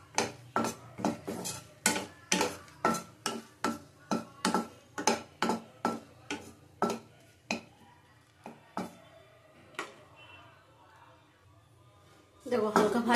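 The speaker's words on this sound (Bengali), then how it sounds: "দেখো, শুকনো লঙ্কাগুলি ভেজে নেবো, হালকা একটু নেড়ে চেড়ে নেবো।" Dried red chillies are lightly fried in a pan while a utensil stirs them, making a quick, regular run of sharp clacks and scrapes against the metal that slows and thins out before a louder rustle at the end.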